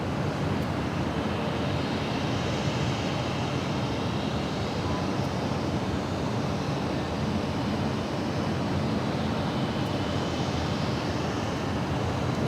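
Aircraft arriving to land at Los Angeles LAX airport make a continuous broad jet rumble, distant and steady, swelling slightly as planes pass.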